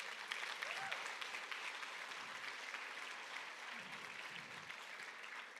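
Steady applause from a church congregation fills the whole stretch at an even level, a continuous wash of many hands clapping with no talk on top.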